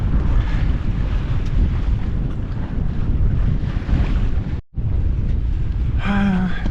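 A sailboat runs under reefed sail in gusty wind near Chichester, with loud, steady wind rush and water noise pounding the microphone, a brief dropout, then a short tonal squeak near the end.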